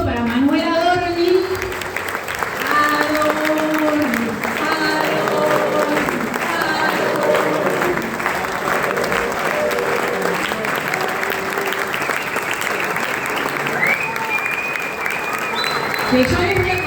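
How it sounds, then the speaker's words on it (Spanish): Audience applause at a live talk event, a dense sustained clapping from a crowd that carries through the whole stretch while a voice speaks over it. "un fuerte aplauso para Manuela Adorni"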